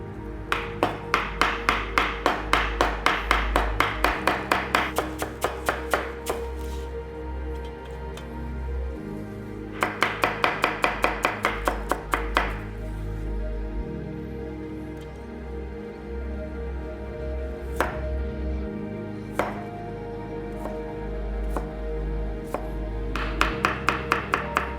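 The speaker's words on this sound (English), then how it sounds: "So we'll chop these up into our dumpling filling sized pieces." Mushrooms are chopped with a knife on a board into dumpling-filling-sized pieces, with loud rapid bursts of sharp chops, long pauses between them, and a faint hum in the background.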